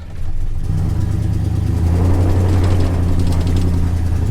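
A truck engaged in four-wheel drive with the hubs locked, driving on a farm while a buffalo fence goes up; a loud, steady engine drone that rises and strengthens partway through as it pulls, close and continuous.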